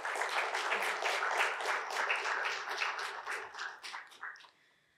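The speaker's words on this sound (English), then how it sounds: "So can we give him a round of applause?" An audience at a panel discussion applauds with many overlapping hand claps. The clapping holds steady for about four seconds, then thins out and stops.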